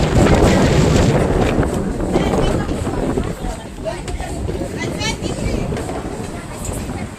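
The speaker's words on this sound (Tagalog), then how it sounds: "Grabe, ang lakas ng hangin." Strong wind buffets the microphone in loud, gusty roars, easing slightly partway through, with voices faintly mixed in.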